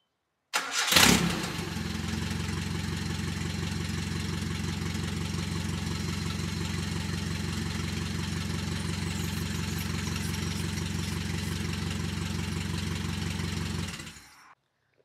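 A car engine cranks and catches after a fuel pump replacement, then settles into a steady, loud, even idle that runs uninterrupted for over ten seconds before cutting off abruptly.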